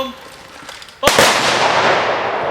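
Honor guard rifles fire a ceremonial volley salute at an old cemetery during an anniversary commemoration of the Warsaw Uprising, one sharp, loud simultaneous crack followed by a long reverberating decay after quiet background sounds.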